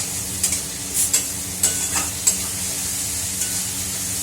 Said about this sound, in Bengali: একটু নাড়াচাড়া করছি, মশলাগুলো হোক